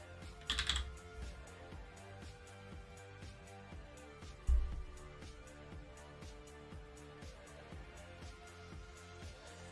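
Typing on a computer keyboard in a quiet room, a soft continuous patter of individual keystrokes with a couple of louder knocks.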